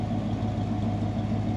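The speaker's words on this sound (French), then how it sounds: "Et à l'arrière, on a ce doux vrombrissement qui sort donc des deux lignes d'échappement." A 1964 Pontiac Grand Prix idling, its engine giving a steady, low, soft rumble from the dual exhaust at close range, with no one talking over it.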